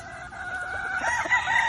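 A big eight-month-old gamecock with a well-built body, kept among fighting fowl, crows and clucks at close range in a short, lively burst over rustling background.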